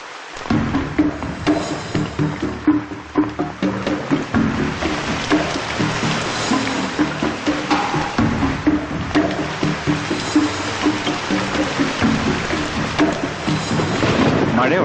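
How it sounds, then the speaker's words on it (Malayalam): Heavy rain pours steadily with rolling thunder rumbling through it, loud and continuous, while a voice occasionally speaks beneath the downpour. "മഴ ഉറക്കുന്ന ലക്ഷണം."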